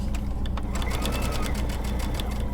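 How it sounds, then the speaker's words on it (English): Sewing machine stitching steadily and close up, a fast continuous mechanical rattle with regular needle clicks, running alone without talk while sewing a kids' placemat. "Remember to always back stitch, or you can lock that thread up"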